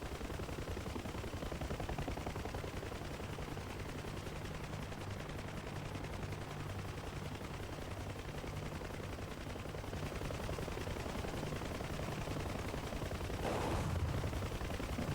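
Aircraft guns in War Thunder fire in a long, unbroken stream of rapid shots over a constant engine drone, fairly faint and even, with a short louder burst near the end.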